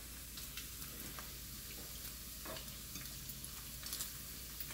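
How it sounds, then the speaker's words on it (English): Bacon sizzling in a pan for a wilted lettuce dressing, a steady close crackle and hiss with occasional scrapes and pops as it is stirred, and no talk. "I kind of stir it around. Yummy bacon."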